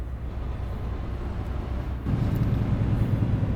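A heavy truck engine drones low and steady in a truck-driving video game with an 18-speed shifter, then rises in pitch and loudness as it is given throttle in a low gear.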